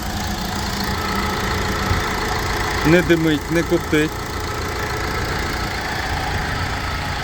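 A 2012 Mercedes-Benz L2H2 van engine idles steadily with a low rumble throughout, while someone speaks briefly over it in the middle.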